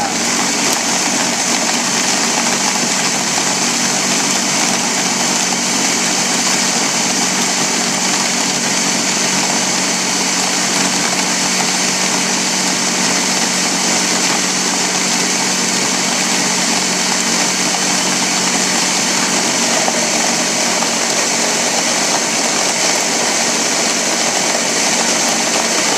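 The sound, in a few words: blender running, blending compost scraps for worms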